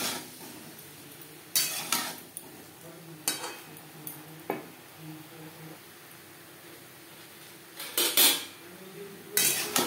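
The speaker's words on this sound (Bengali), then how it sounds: "লবণ হলুদ দিয়ে সয়াবিন হালকা করে ভেজে নেব।" Soybean chunks and potato pieces fry lightly in a pan with salt and turmeric: a faint, soft sizzle broken by several sharp clinks and scrapes of a spoon stirring against the pan, quiet between strokes.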